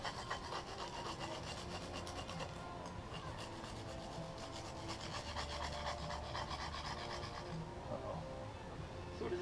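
Hand filing a metal part to taper it down for a forge lid, a steady raspy scraping that runs continuously and fairly close under a busy background.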